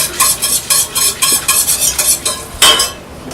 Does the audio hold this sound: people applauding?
no